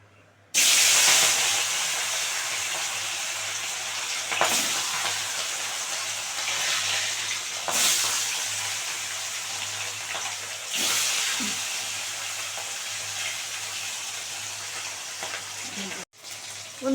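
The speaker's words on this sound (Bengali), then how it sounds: "গরম হয়ে গেছে তেল, এবারে দিয়ে দেবো মাছগুলো এক এক করে" Katla fish pieces sizzle in hot white oil in a wok, a loud steady hiss that flares up at each new burst of frying, with no talking.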